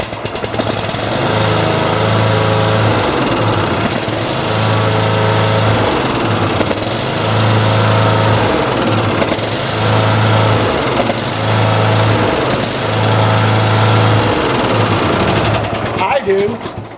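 Lawn mower engine chugging and running loud and close, with a rapid, steady putter that pulses in repeated surges before cutting off near the end.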